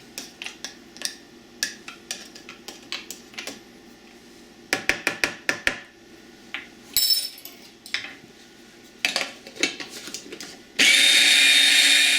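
Short bursts of clatter and knocks at first, then a loud, steady blender whir of chili garlic sauce that runs alone to the end.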